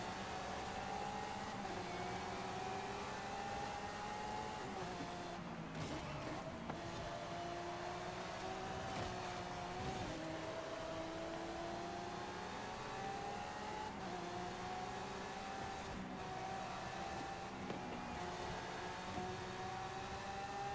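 Lamborghini engines in Forza Horizon 5 on PS5, a steady droning engine note with slowly rising and falling pitch, held throughout with a few faint clicks and no talking.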